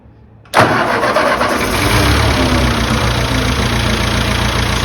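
Ford 8N tractor engine catching after a revival, firing up abruptly and settling into a loud, steady, smooth idle that fills the rest of the clip.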